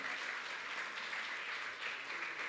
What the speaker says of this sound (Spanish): Dale un aplauso al pastor que hoy no puede hablar.